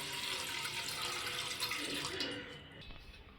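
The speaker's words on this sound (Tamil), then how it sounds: "தேவையான அளவு தண்ணி அதில் ஊற்றிக்குங்க." Water is poured into an idli steamer pot on the stove while ragi puttu is made, a steady rushing gush that lasts nearly three seconds and then tapers off, heard up close with no talking.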